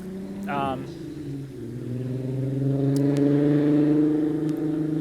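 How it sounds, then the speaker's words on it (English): A car engine roars loudly and builds as it passes close by, its drone rising and holding, following a brief voice at the start. "Super loud car."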